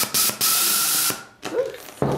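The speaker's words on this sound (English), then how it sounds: "Let's go ahead and blow this guy up." A 260 latex animal-print balloon is pumped up in several short, loud bursts of rushing air hiss. Brief pauses separate the bursts, and a final shorter burst comes at the end.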